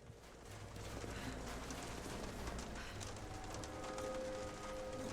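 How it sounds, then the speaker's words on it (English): Rain falls in a Siberian setting inside a video game, a faint, even hiss of drops spreading as a steady backdrop without pause. "Is it raining? Is that what I'm hearing?"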